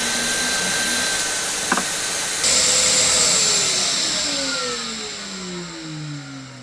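Pocket holes being drilled with a Trend pocket hole jig while a dust vacuum runs, a loud whirring roar with a brief sharp bite midway, then winding down as the motor spins out.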